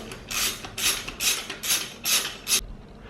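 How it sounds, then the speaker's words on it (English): A bearing press tool is being loosened on a KTM PDS swing arm: six evenly spaced, close ratcheting bursts, each a short rasping click sequence. "stop tightening it and loosen it and remove the tool"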